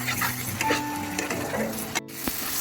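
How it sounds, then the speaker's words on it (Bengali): Spice masala for achari pabda fish sizzles in a pan as it is sautéed, with a soft, continuous frying crackle, faint stirring scrapes and a light click near the end. "মশলাটি কিন্তু আপনাদের অনেকক্ষণ ধরে কষাতে হবে, কষিয়ে রান্নাটা করতে হবে"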